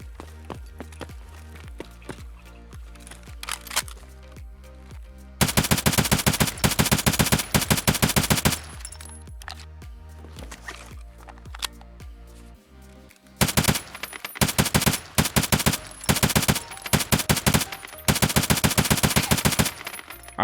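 STM-9 gun in Escape From Tarkov fires in long loud automatic bursts, several sustained strings of rapid shots separated by quieter gaps with faint background music.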